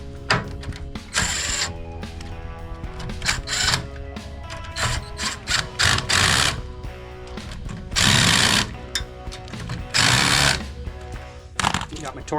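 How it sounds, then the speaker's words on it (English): Work on the subframe bolts of a Pontiac Firebird gives rapid bursts of power-tool rattling and metallic clatter, stopping and starting irregularly. "We'll get the bolts in, and we'll get them torqued down."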